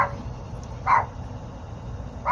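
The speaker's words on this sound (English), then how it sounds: "And that's my dogs." Two dogs, a mother and daughter pair, let out a single sharp bark followed by a brief second yip at the end, heard at moderate distance in a quiet room.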